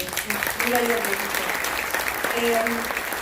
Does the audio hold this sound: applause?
yes